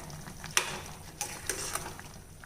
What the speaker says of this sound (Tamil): இப்போது இதை நல்லா கலந்து விட்டுக்கலாங்க.